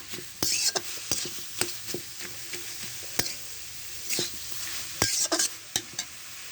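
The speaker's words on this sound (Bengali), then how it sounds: "এভাবে নেড়ে চেড়ে ভেজে নেব।" Leafy greens are tossed and stirred in a hot pan while they sizzle, with repeated sharp scrapes and clacks of the utensil against the metal over a steady frying hiss, close up and uneven in rhythm.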